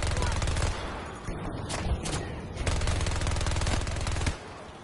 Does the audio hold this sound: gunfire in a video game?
yes